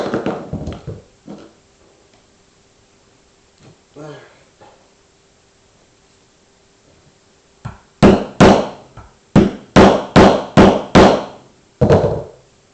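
A tool prying out the fork seal on a 1981–83 Yamaha Virago motorcycle fork housing gives sharp knocks and scraping taps. They are sparse at first, then a dense burst of loud, close metallic strikes, with someone talking between them.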